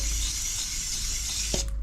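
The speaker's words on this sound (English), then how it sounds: "I'm just going to give this a bit blast out anyway with some brake cleaner." Brake cleaner hisses in a steady aerosol spray onto seized Royal Enfield Classic 350 motorcycle brake calipers, a close, continuous blast that cuts off abruptly near the end with a small clunk.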